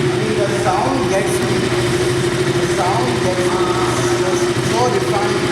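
A KTM RC motorcycle with an underbelly exhaust idling, giving a steady, loud, low engine drone with a constant throb throughout.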